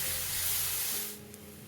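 Chopped onion and tomatoes sauteing in a pan for a South Indian coconut gravy, a steady close hiss of sizzling that softens and fades after about a second.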